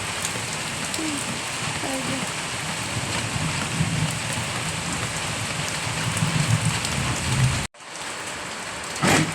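Rain falling steadily during a stormy day, a continuous dense patter and hiss on surfaces nearby, cutting off briefly before resuming near the end.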